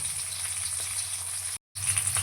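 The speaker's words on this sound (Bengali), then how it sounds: "মাছগুলো দিয়ে দিয়েছি মাছগুলো একটু ভেজে দেবো" Koi fish fry in oil with a steady bright sizzling hiss that briefly cuts out before resuming, and no voices.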